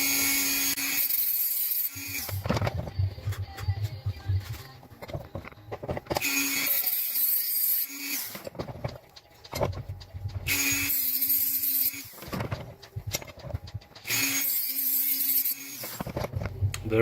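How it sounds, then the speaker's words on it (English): Dremel rotary tool grinds the edges of a metal bracket in several loud, high-pitched whining bursts of about two seconds each, separated by brief pauses. "Just take my Dremel tool here, kind of clean up these metal edges here."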